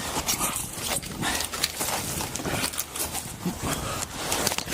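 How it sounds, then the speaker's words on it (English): A dog barks and scuffles inside a house during a police emergency call, with repeated rough, noisy bursts close by and no speech. "I can see the dog right here."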